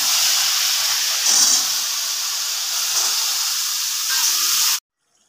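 Whole red chilies sizzle in hot oil in a Bengali home kitchen, a loud steady frying hiss that runs unbroken for several seconds, swells briefly once, then cuts off abruptly into silence.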